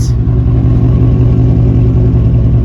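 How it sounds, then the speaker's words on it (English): Steady, loud low rumble of a Ford F150 exhaust with the muffler deleted, leaving straight piping to the tip, idling close up with a continuous throbbing drone and no talk. "And here's the exhaust, the muffler delete"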